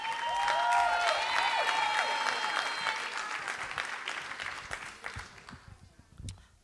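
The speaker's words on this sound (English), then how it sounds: "Can we give her a round of applause?" An audience claps in sustained, dense applause, loud at first and gradually thinning and fading toward the end, with a few voices mixed in.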